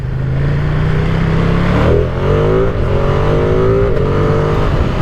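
A 2023 Ducati Streetfighter V2 middleweight naked motorcycle revs loudly while being ridden, the engine note climbing and dropping through repeated throttle changes with steady wind noise underneath.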